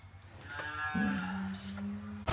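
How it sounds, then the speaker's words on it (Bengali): A Holstein Friesian cow at a cattle farm gives one long, loud, close moo that holds steady for over a second before ending abruptly. "তো পরবর্তী তিন নাম্বার গরুটা আমরা দর্শকদেরকে দেখাই"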